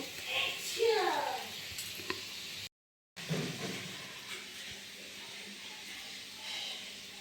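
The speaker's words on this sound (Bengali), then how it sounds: "একটু আলু ভাজছি আজকে" Potatoes fry with green chili on an outdoor clay stove, giving a soft, steady sizzle with occasional stirring scrapes and a brief silent gap midway.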